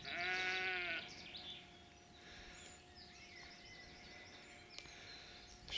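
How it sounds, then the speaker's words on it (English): A sheep bleats once loudly and close by in a wavering cry lasting about a second, followed by faint distant bird calls and soft outdoor ambience on a riverside stretch. "The same sheep bleating away."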